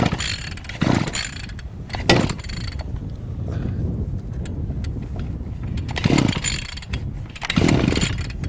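A backpack motorized brush cutter's small engine pulled over and sputtering, with repeated bursts of cranking and firing over a rough mechanical drone, loud and close, no talk.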